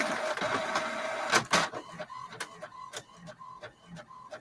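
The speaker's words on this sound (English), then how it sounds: "Why is my printer printing?" A home printer runs a job, a series of sharp mechanical clicks and ticks with a whirring feed at first, then spaced rhythmic clacks, near and moderately quiet in an indoor room.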